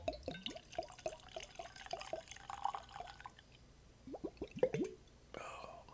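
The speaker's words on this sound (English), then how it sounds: "That glug glug sounds pretty good" Evan Williams Black Label whiskey pours from the bottle in a rapid run of close, rhythmic glugs, then pauses before a second shorter burst of gurgling, with faint breathy sounds between.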